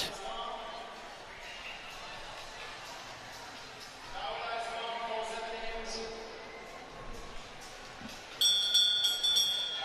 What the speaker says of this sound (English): And another bell.